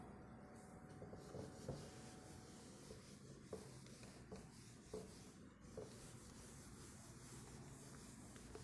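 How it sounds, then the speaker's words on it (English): A board being wiped clean in a classroom, a continuous faint scrubbing rub heard up close with a few soft knocks along the way, and no talking. "Okay, I am rubbing this off."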